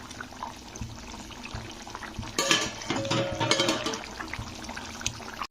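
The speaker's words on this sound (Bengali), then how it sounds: "তো চলো এটাকে ফুটিয়ে নিচ্ছি, ঝোলটাকে একটু মাছ দিয়ে ফুটিয়ে নিতে হবে।" Tel koi fish curry cooking in a pan, with a steady low hiss of liquid and metal scrapes and clinks of pan and utensils that grow louder and busier after the first couple of seconds.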